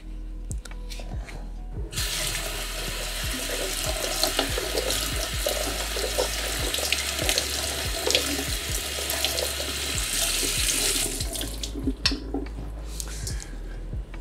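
Kitchen tap water running steadily over blueberries in a sink, a continuous close splashing rush with soft squishy shifts and drips, no talking.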